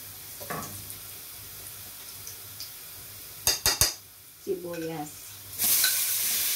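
Onion goes into a pan where garlic has browned for beef ragout, with soft frying beneath a few sharp metallic clatters of utensils, a brief squeak, then a rising burst of sizzle at the end.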